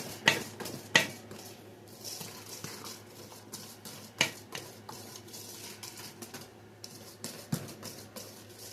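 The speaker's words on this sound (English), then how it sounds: "we're going to whisk in the shortening" A whisk clinks and taps against a bowl as shortening is beaten into chocolate fudge brownie batter, with irregular close scraping and sharp metallic knocks, no talking.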